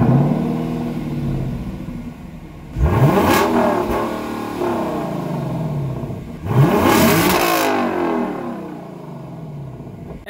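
A 2021 Lexus LC500 V8 idles after a cold start and is revved twice, each sharp, loud blip rising and falling before settling back into a rumbling idle.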